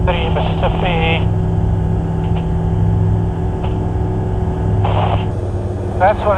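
Steady drone of a light aircraft cockpit heard through a UFQ A28 headset worn with glasses, a constant low engine hum throughout, with brief bursts of talk near the start and end.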